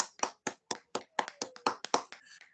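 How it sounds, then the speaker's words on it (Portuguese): Hands clap about ten times in an even, unhurried rhythm at a church study gathering, quiet and close, with no voices over them. "as nossas palmas"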